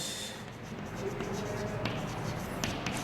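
Marker or chalk writing on a board during a mathematics lecture on applications of derivatives, heard as soft scratchy strokes over steady room noise with no clear speech.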